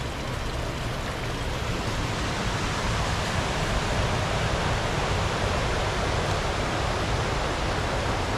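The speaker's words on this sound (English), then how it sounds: "There's also a waterfall down here." Steady, loud roar of the waterfall at Paine Falls Park in Painesville, Ohio, a broadband rushing wash of falling water heard close and constant with no voices.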